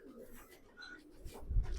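Kalanka pigeon chick cooing softly in a loft, a faint low coo under quiet background noise, swelling briefly near the end.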